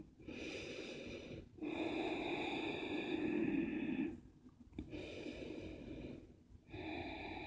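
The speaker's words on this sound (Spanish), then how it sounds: "Ven respirando aquí profundo." Deep, slow breaths during a morning yoga session, heard close and alone. About four long inhales and exhales follow each other with short pauses between them.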